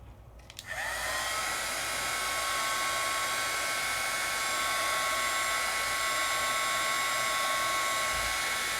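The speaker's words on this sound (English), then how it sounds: "I can take my heat tool, and this is going to make it move even more" A craft heat tool switches on and blows hot air over work on heat-resistant acetate, rising within a second into a steady, whining hair-dryer-like roar that holds evenly and fairly close with no talking.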